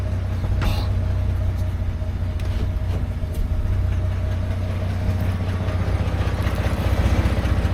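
An old Dodge W100 truck engine idles with a steady, low rumbling throb close by, running continuously as the truck is shifted into gear.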